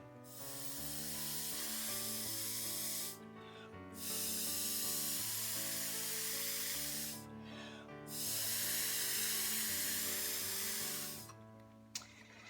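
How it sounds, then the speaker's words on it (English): High flow acrylic paint sprayed in three long hissing bursts, light at first and then harder, each a few seconds long with short pauses between, heard over a steady tonal background, with no one talking. "I'm going to spray light and then I'm going to spray hard."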